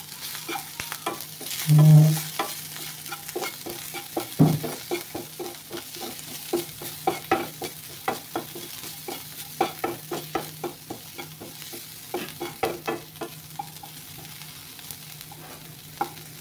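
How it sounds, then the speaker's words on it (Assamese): Dried small fish fry crisp with salt and turmeric in a wok, a soft steady sizzle under frequent rhythmic scrapes and clacks of a spatula stirring, close up and without speech. "যিহেতু এইটো শুকান মাছ হয়, সেইটো কাৰণে অকণমান কাঢ়াকৈ ভাজি ল'ব লাগিব"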